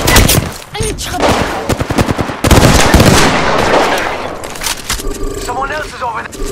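Rapid bursts of video game gunfire in a ranked match as the player's character takes fire, sharp cracks clustering densely then thinning out, loud and close, with game sounds trailing near the end.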